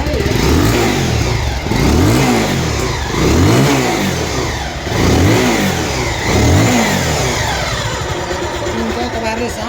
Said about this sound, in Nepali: गाडीको स्टार्ट गरेर साउन्ड सुनाउनु गइरहेको छु तपाईँलाई